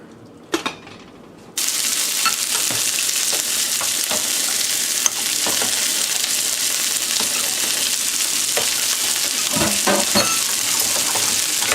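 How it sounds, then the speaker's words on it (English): Sea cucumber stew at a steady boil in a pot gives a constant loud bubbling hiss that starts after a brief quiet stretch with a few clinks, and occasional spoon knocks come as it is mixed. "Going at a steady boil right now, so just give it a good mix and let it continue to simmer."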